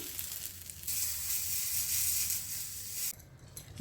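A hot tempering with curry leaves is poured into roasted tomato chutney, setting off a sudden loud hissing sizzle that holds for a couple of seconds and then cuts back to a quieter crackle, heard up close.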